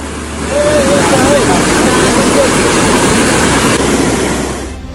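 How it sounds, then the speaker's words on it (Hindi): Floodwater after heavy rain surges through city streets in Jodhpur, Rajasthan, a dense, steady, loud rushing roar that holds evenly throughout before easing at the very end. "भारी बारिश से सड़कों पर उफान मारता दरिया बह रहा है"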